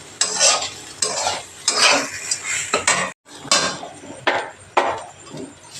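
Curry leaves and asafoetida fried in a pan: a spatula repeatedly scrapes and clinks against the metal in uneven strokes, with a light sizzle underneath and a brief pause midway.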